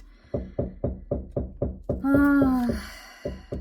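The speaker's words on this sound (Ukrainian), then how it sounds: "сусідка вміє вчасно постукати" A neighbour raps on a wall or door in a tall residential building, about ten steady knocks in quick succession, then a pause and two more, with a brief wailing voice or tone over the middle.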